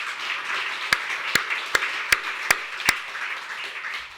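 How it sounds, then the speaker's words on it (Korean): A church congregation claps in a slow, even rhythm, about six sharp, loud unison claps over a soft background murmur of scattered clapping. "감사의 박수도 한번 올려봅시다"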